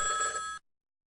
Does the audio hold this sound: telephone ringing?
yes